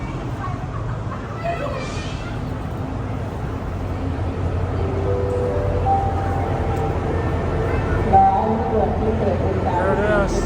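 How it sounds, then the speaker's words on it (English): Overnight sleeper train No. 9 pulling into Bangkok station, a low steady rumble with rising squealing brake tones as it slows, under continual chatter on the platform. "Well, it looks like our train is finally here."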